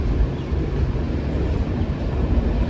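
A Central Railway Diva–Roha MEMU train stands at platform 1, sending a steady low rumble with a constant mechanical drone that stays loud and close throughout, with no talking.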